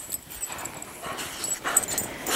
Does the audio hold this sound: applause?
no